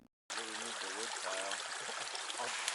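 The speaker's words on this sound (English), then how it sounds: "Well, it looks like the rain finally came." Steady hiss of rain at a gold mining camp at Cache Creek, Colorado, after a brief silence, with someone talking over it.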